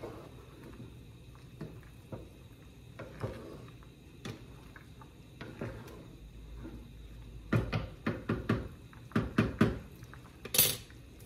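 Metal utensil clinking and scraping against a cooking pot while stirring chicken tinola seasoned with pink salt, a few scattered taps at first, then a quicker cluster of clanks toward the end, fairly close in a quiet kitchen.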